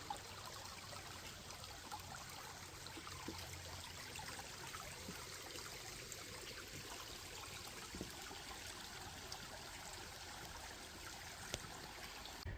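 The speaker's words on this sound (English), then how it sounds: "And what would a hike be without a babbling brook?" A babbling brook flows through Crystal Gorge in a Haverhill conservation area, a faint, steady watery rush and trickle that continues evenly throughout with no voices.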